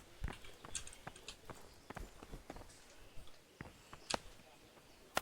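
A horse gallops in Kingdom Come Deliverance, with rapid, uneven hoof clops and footfalls going on for several seconds, broken by a few sharp clicks.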